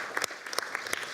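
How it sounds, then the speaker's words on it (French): Audience applause for Laurent Devigne, purchasing manager at the Council of Europe, at a public procurement forum in Strasbourg; brief, fairly faint clapping with a few sharper individual claps standing out. "je vous demande de l'applaudir, s'il vous plaît."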